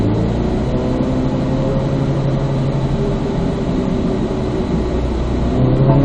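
A race car on a track session rolls along in third gear, its engine a loud, dense, steady drone with low rumble and a slight climb in pitch as it pulls forward, with no talk heard.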